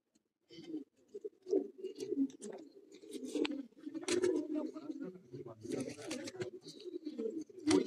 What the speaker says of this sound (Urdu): تو یہ جی ایک اور پروازی کبوتر